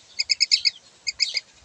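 A myna chick gives a quick burst of five or six bright, rapid chirps, pauses briefly, then chirps several more times. The calls are close, clear and alone.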